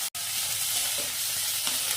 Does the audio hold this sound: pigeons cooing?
no